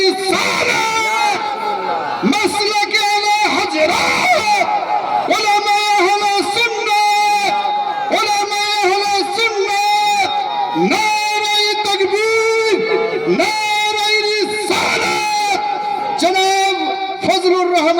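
A crowd at a madrasa gathering shouts the Nara-e-Takbir slogan in loud, repeated call-and-response waves, a leader's amplified voice calling and many voices answering together throughout.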